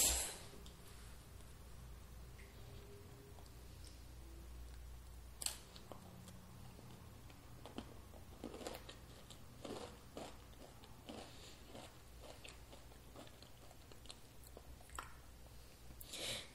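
Oreo cookie being bitten and chewed close up, with soft crunches and scattered short mouth sounds at a quiet level, plus a few clicks and rustles and no talk.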